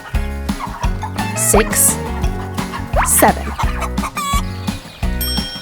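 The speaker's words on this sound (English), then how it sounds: "7 chickens." Cartoon farm chickens cluck in short bursts over bouncy children's music while a voice counts aloud.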